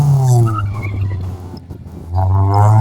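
Race car at a mall slalom race, loud close tire squeals and skidding with engine revving at the start and end, dipping briefly in the middle.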